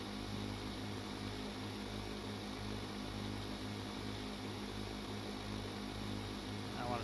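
Boat propeller engine at full throttle and low pitch in the Stormworks game, a steady droning hum with a pulsing low tone, faint and unchanging throughout, no speech.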